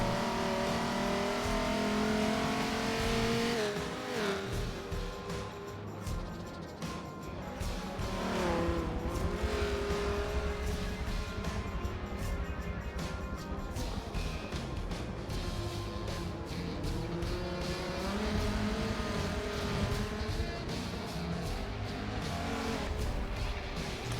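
Race car engines at Hockenheimring in the video game Forza Motorsport 7: continuous revving with rising and falling pitch through gear shifts and corners, layered cars, sustained and prominent throughout.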